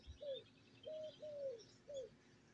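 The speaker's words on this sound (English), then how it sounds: "That was a mourning dove, if you can hear it in the background." A mourning dove gives four soft, drawn-out coos in an evenly spaced series, faint and somewhat distant in a quiet outdoor setting in the Philippines, with light chirps from other birds behind them.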